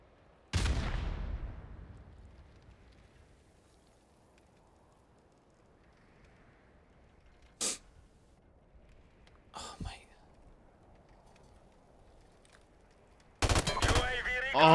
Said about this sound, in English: I'm just getting shot at, I can't see anything.